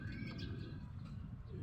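A domestic racing pigeon coos softly in a short, low, rounded call, close by against a faint background hum.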